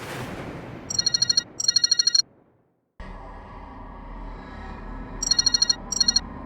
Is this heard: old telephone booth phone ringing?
yes